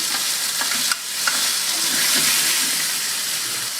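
Chicken sautés in hot oil with salt and pepper in a pan, a loud close continuous sizzle with light crackles and a few stirring knocks.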